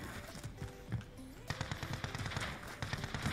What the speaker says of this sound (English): They're getting shot at by someone else.